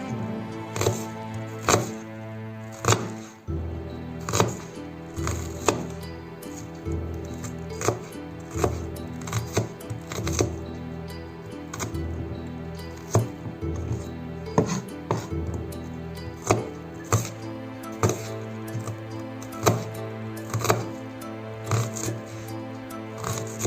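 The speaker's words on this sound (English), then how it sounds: "Here I have 1 medium-sized onion, so I'm going to cut this into small pieces." A knife chops a medium-sized onion into small pieces on a board, sharp close taps in irregular bursts with short pauses, over faint background music.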